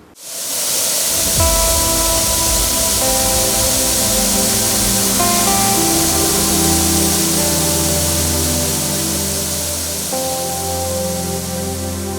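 Thoomanam waterfall at Akamala pours in a loud, steady, broadband roar of rushing water that starts abruptly and holds constant, with faint tonal hum and no voices.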